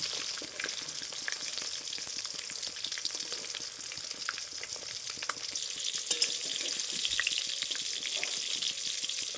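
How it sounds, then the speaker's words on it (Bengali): Chitol fish dumplings (muitha) fry in oil on medium-low heat, making a steady, dense close-up sizzle that runs the whole time with faint occasional clinks, and no voices. "দুই দিকে উল্টে পাল্টে মুইঠাগুলোকে একদম লালচে কালার করে ভেজে নেব"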